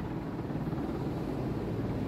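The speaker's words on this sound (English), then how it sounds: "This guy's all over the place, this helicopter." A helicopter flies around overhead, its low, steady rotor rumble filling the air continuously at moderate distance with no voices.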